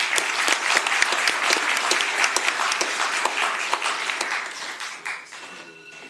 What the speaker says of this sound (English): let's give our school crossing guards another round of applause